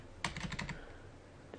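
A short burst of taps on computer keyboard arrow keys, about five quick clicks close by, then quiet.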